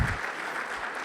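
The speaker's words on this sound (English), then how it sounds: "they need a round of applause today" A conference audience applauds the tech booth crew in a brief, steady wash of clapping at moderate volume.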